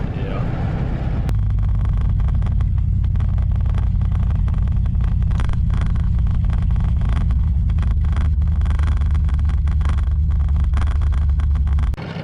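A hot rod truck engine with a poorly running carburetor revs hard and accelerates, a loud, steady low rumble filling the whole stretch before cutting off near the end; people talk over it.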